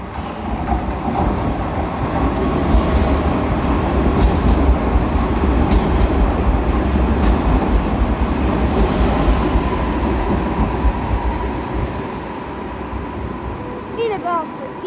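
An Intercity train to Zielona Góra passes through Wrocław, a loud, close, continuous rumble and rattle of wheels and carriages that eases off near the end, followed by a brief metallic wheel squeal.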